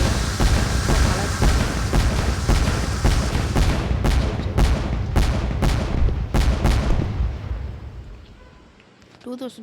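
Fireworks shooting up and exploding in a 3D fireworks simulator video game, a dense barrage of loud booms and crackling bursts that thins into separate bangs before fading, with a few soft clicks at the end.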